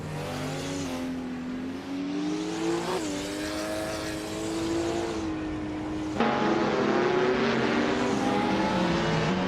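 Race-car engines of 2018 Toyota FT1 GTE cars in a racing video game rev and accelerate hard, with sustained rising and falling engine whine and a louder surge near the end, heard alone without talk.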